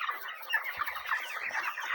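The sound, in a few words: broiler chickens clucking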